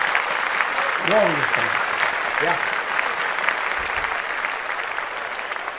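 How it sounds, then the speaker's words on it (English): Steady applause celebrating Steph Curry's return from a groin injury runs through the whole stretch, with a voice speaking briefly over the clapping. "Let's clap that up for you"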